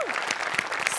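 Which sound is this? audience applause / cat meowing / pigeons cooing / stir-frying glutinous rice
audience applause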